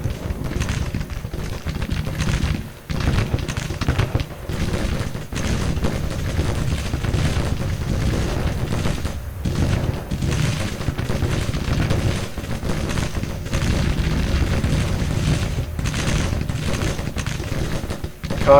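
Battle in the Civil War strategy game Grand Tactician: Civil War, a dense, continuous roar of massed musket fire and rumbling combat noise, loud and sustained throughout with scattered sharper cracks.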